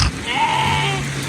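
Sheep bleat in one drawn-out call as the flock crosses a stream, against a steady rush of flowing water.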